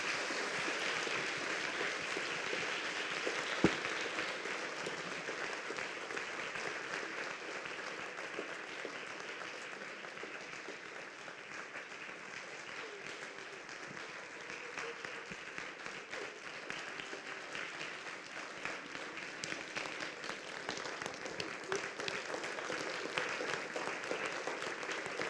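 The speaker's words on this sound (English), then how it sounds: "give her a round of applause" Sustained audience applause closes a distinguished faculty lecture, a steady dense wash of clapping from a large hall that holds evenly for about twenty-five seconds without talk.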